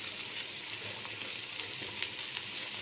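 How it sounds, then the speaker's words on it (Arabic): Whole garlic cloves fry in hot oil in a pot at the start of a Saudi kabsa, giving a steady, dense sizzle that holds evenly throughout with faint crackles and no talking. "هحط فصين من الثوم كاملين زي ما هما"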